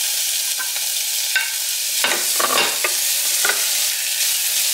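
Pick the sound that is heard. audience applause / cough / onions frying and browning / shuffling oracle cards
onions frying and browning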